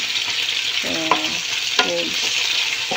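Chicken sizzles in a hot pan with a steady bright hiss, broken by a few scraping stirs and utensil clinks against the pan, close and fairly loud.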